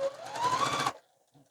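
Sewing machine stitching a fabric seam, a short buzzing run of rapid needle strokes lasting just under a second, close and clear, then stopping to near silence.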